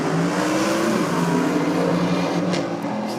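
A drag racing car launches down the strip and runs hard, a loud, sustained engine roar staying close and steady for a few seconds with no talking over it.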